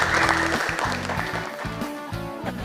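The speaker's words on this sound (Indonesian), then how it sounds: "Ya, tepuk tangan." A classroom audience claps briefly, a short burst of applause that fades quickly with no talking over it.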